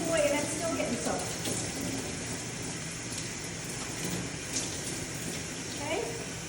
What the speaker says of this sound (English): Turn the water pressure up a little bit, and we can start rinsing from the neck